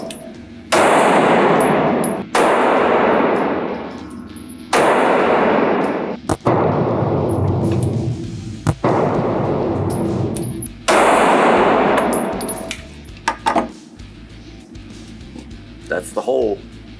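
Shots from a CZ P10C compact pistol at an indoor shooting range in Stafford, Texas, fired in several loud strings of sharp, ringing cracks with brief pauses between strings.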